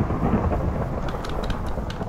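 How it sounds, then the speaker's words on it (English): Thunder from a lightning strike in Minecraft rolls as a loud, sustained rumble over a couple of seconds, with crackling bursts near the end and no talk over it. "there was lightning right over here"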